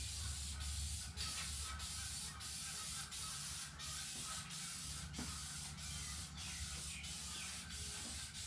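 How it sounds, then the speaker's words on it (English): Gray auto primer hisses from a spray can in a series of short, regular bursts, close and fairly quiet, with brief pauses between passes and no talk. "let me shake this up, and we'll get to spraying"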